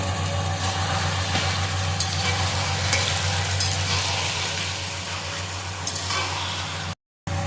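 Ginger paste fries with black taro leaves in a pan, making a steady, dense sizzle with faint stirring scrapes throughout, close and continuous until it cuts off abruptly near the end.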